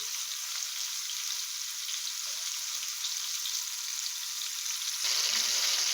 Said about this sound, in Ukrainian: Ось так смажимо нашу рибку.